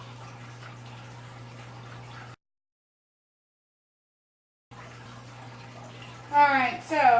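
Water flowing through an aquarium siphon hose into a bucket during a tank water change, a steady low trickle with a break of silence in the middle, then splashing that grows louder near the end.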